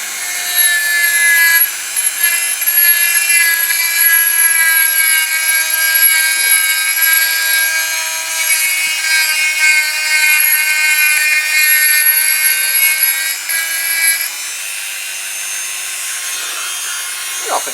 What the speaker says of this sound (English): Got like a little barrel sander thing on it.